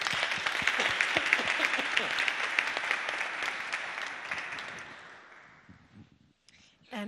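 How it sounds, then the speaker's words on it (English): Conference audience applauding a panel, a dense, sustained round of clapping that holds steady for several seconds, then thins and dies away, with a brief stir of sound right at the close. "I suggest that we give a little bit of a cheer up to the panel"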